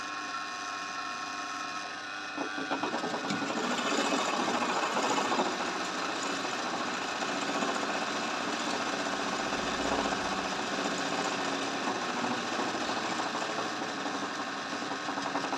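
An embroidery sewing machine stitches a design with a fast, steady mechanical whirring and ratcheting that starts a couple of seconds in and keeps going at a moderate level without a break.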